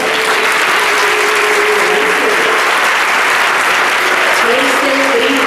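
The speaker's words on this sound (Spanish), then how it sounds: "Un aplauso." Audience applause at a church anniversary celebration, thanking dancers who performed; a steady, dense wash of clapping throughout, with a voice speaking briefly over it.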